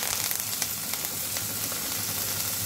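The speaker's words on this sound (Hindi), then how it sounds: "और इसे भी बस हल्का सा भून लेंगे।" Onion, capsicum, carrot, tomato and coriander sauté together in a hot pan with a steady, close, even sizzle. The sizzle runs throughout with faint crackles and no voices.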